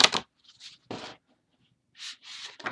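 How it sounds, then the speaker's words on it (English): Black Angel playing cards are shuffled in a few separate bursts of riffling and fanning, with quiet gaps between them, close and fairly soft, with no talk. "Let me see how I can possibly shuffle them."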